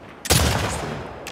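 A single loud sniper rifle shot from The Last of Us Part 2 cracks out near the start, then trails into a long rumbling echo that decays across the open distance.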